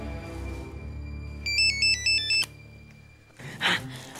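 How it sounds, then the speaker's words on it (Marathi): A telephone rings with a short melodic electronic ringtone of a few quick beeping notes, then falls quiet, with nobody answering and a muffled rustle near the end. "फोन सुद्धा उचलत नाही मुलगी"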